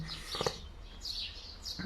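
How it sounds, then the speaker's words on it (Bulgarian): Small birds chirp and tweet faintly in short bursts over quiet outdoor background noise, with a few brief calls spread across the moment. "И тогава чувам птичките още по-силно"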